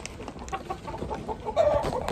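Gamecocks cluck and squawk faintly in brief, scattered calls, with one clearer tonal call just past the middle, against low background noise.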